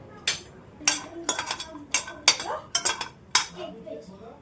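Walnuts tossed and stirred in a pan for roasting, with a string of sharp metallic clinks and scrapes coming at irregular moments, close by and loud.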